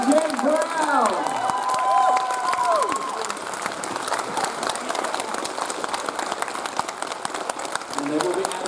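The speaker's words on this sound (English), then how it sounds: "please give me a massive round of applause for our panelists to start the day" Convention crowd applauding panelists at MCM Manchester 2019, a broad, steady wash of clapping with some cheering that fills the whole stretch, a voice speaking over the start.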